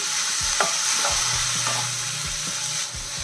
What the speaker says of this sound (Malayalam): രണ്ട് തക്കാളി ഞാൻ അരച്ച് വെച്ചിട്ടുണ്ട് അതും കൂടെ ചേർത്ത്